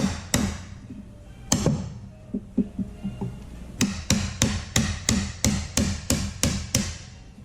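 A square wooden peg is driven into a round hole with a chisel and hammer while building a rustic barstool from fence boards: sharp, close wooden knocks, first scattered, then a steady run of about ten evenly spaced blows.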